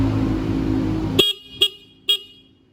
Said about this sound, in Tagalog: Hindi naman nagkakaproblema yung busina.